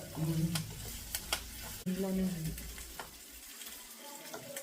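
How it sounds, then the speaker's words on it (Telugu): Lentils fry in oil in a home kitchen, a steady sizzle running throughout with occasional stirring scrapes, while someone talks over the cooking. "ఎర్ర పప్పులు ఎర్రగా వేగే వరకు వేగాలన్నమాట"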